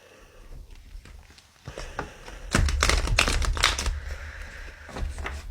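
Playing cards shuffled by hand indoors, a soft rapid riffling flutter swelling loud for a couple of seconds mid-clip between quieter rustles and taps.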